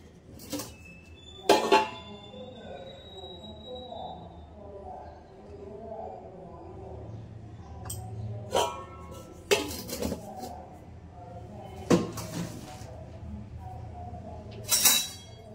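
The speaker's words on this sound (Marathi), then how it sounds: "हळद टाकते यामध्ये आणि मिक्स करून घेते छान." A metal spoon scraping and clinking against a pot as turmeric is mixed into hot cooked dal, several sharp clinks spaced out between softer stirring, with someone talking throughout.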